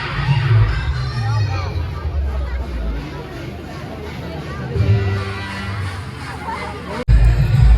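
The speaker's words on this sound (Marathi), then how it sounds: "फुल बेकार गर्दी आहे" Dense crowd at a village fair during a palanquin procession, a steady loud hubbub of many voices and children throughout, with a louder surge of chatter near the end.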